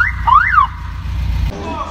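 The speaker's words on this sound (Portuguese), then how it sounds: "Olha a buzina." A Buggy 1300 sounds a warbling, rising-and-falling musical horn, close and loud, over the low rumble of its running engine, which carries on alone after the horn stops.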